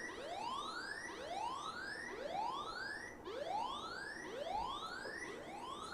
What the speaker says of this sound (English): this is how a siren will play